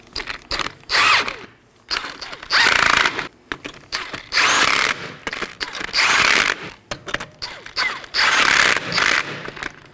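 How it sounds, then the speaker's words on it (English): An impact tool drives bolts on a Chevrolet Equinox tie rod in a series of loud, rapid ratcheting bursts separated by short pauses, close by, with bright clinking between runs. "I'm going to tighten these in a crisscross pattern."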